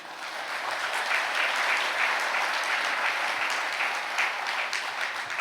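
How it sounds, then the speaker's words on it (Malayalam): Church congregation breaking into applause during a Catholic talk by Fr George Panackal: dense, even clapping from many people, sustained throughout and filling the space without any voices on top. "ഒന്ന് കൈയടിച്ച്"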